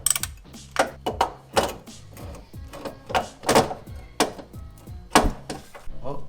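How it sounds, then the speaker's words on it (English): A ratchet loosens the starter bolts on an Infiniti G35, clicking and clunking up close in irregular bursts of metallic ratcheting strokes. "Now I'm just going to go ahead and loosen those bolts the rest of the way,"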